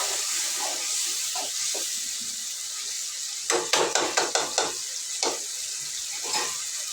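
Ginger garlic paste frying in a pan for a chicken fry, with a run of sharp spoon scrapes and taps in quick succession over a steady sizzle.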